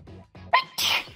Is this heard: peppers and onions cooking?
no